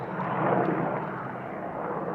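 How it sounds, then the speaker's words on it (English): A helicopter flies overhead as a steady, broad rushing rumble of rotor and engine noise, moderately distant and continuous, with no clear talking. "there's the helicopter"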